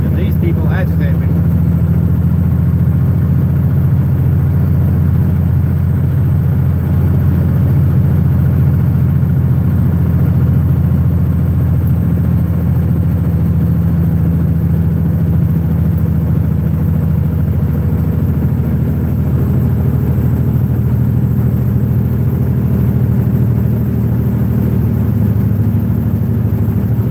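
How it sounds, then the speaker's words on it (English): A vehicle engine labouring as it climbs a steep grade on a highway toward Waldron, Arkansas, a steady, loud, low drone with road rumble that holds throughout. "Y'all can hear that engine torquing or not,"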